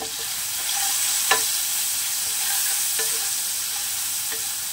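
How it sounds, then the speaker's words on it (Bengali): Tomatoes with turmeric frying in a pan for a Bengali tangra fish curry, an even, close sizzle with a few sharp spatula taps and stirring scrapes. "এবারে তাকে ভালো করে নাড়াচাড়া করে"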